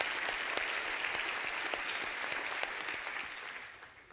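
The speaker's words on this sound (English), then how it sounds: "a big round of applause to all our law enforcement that is here today" An audience applauds law enforcement officers at a Harris County State of the County address, a dense, steady clatter of clapping that thins and fades toward the end.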